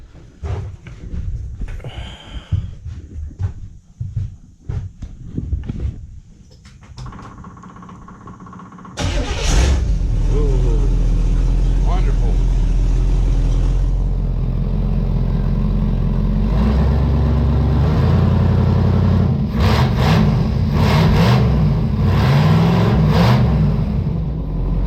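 Chevrolet IROC engine running steadily and loud after starting, a constant close idle with a few revs, following a stretch of quieter clatter and handling noises.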